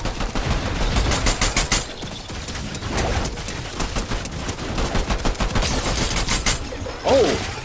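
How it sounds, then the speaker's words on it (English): Gunfire during a Fortnite match, bursts of loud shots and rattling fire coming in clusters over several seconds, some close and sharp, others more scattered, with a short whistling sound near the end. "My dude just shot that dude off the cliff."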